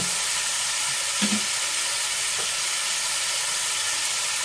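Corn, peas and onion with a salt and ground black pepper spice mix sizzle steadily in a hot pan, a constant hiss with a brief louder spatter near the start, and no talking.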